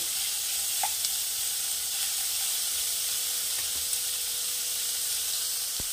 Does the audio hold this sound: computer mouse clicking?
no